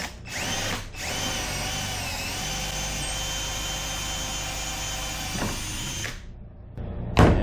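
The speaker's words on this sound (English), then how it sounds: "So I'm just gonna drill through all of this now." A power drill whines steadily and loudly as it drills through stainless steel screws while mounting a solar panel on a Polaris Ranger, stopping briefly once, then winding down with a final clunk.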